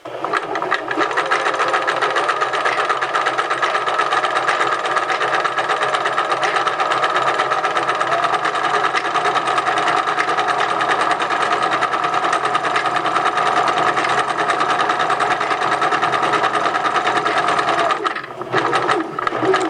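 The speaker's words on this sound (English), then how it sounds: "I'm just going to sew all the way around, making sure that I have the fold on the edge" A sewing machine runs steadily, stitching all the way around a folded seam edge, a close, continuous mechanical whir that holds evenly for nearly the whole stretch before a brief pause near the end, with no one talking.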